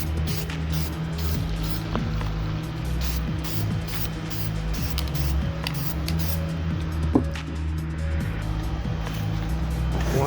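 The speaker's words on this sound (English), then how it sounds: "Then you spray them over with primer." A spray can of primer coating interior door handle covers from a Land Rover Range Rover, giving a continuous close hiss that runs for about ten seconds over a steady low rumble.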